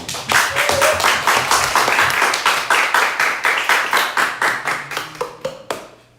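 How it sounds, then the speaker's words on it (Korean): A church congregation claps during a Sunday morning service, loud rhythmic unison clapping in a steady beat that slows and thins out to a few final claps. "모든 영광 하나님께 박수 올려드리겠습니다."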